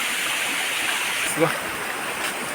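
A small waterfall near a village feeds a stream, which rushes in a steady, even wash of moving water from close by.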